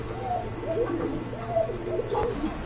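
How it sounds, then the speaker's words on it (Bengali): Pigeons at a bird market give soft, repeated cooing calls in a close, quiet murmur, several rolling coos following one another without pause. "আর বিগ সাইজের এক জোড়া কবুতর"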